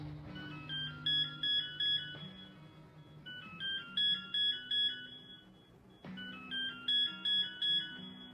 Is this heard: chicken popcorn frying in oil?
no